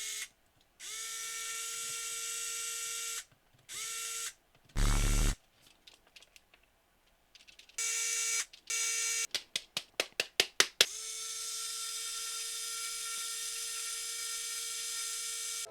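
Small OEM Nintendo screws are driven into a DS Lite shell by hand, giving bursts of quick ratcheting clicks separated by short pauses, close and fairly quiet, with a steady background hum and no talking.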